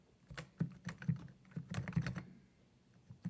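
Keys clatter on a computer keyboard as shortcuts are typed, a close run of quick, uneven clicks and taps that pauses briefly near the end, with no talk.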